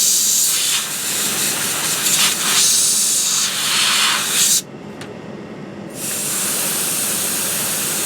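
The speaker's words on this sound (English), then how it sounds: "I'm just going to dry it with some compressed air" Compressed air sprays over an Amiga 600 accelerator chip in loud, hissing bursts that stop briefly, then resume as a steady close-up rush.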